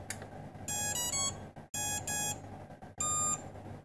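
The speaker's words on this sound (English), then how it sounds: "At least in theory, we should hear the starting beep of the BL-Heli ESC code" A repaired Cicada all-in-one drone flight controller with BLHeli ESC firmware gives its startup beeps: three loud, clipped electronic tone bursts, each a short rapid run of pitched beeps, separated by brief gaps over a steady background hum.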